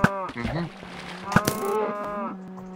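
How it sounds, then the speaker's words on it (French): Several cows moo in Minecraft, drawn-out lowing calls overlapping one after another at close range, with a couple of sharp clicks from the game between them. "Pourquoi il y a plein de vaches là?"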